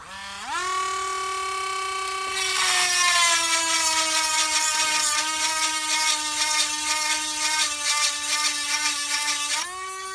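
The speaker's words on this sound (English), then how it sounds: "when I'm here in the shop, I just use a little hand grinder, a little Dremel" A small Dremel hand grinder sharpens a chainsaw chain in a shop, a high steady whine that spins up, then turns into a rough, pulsing grind as it bites the teeth, loud and close, winding down at the end.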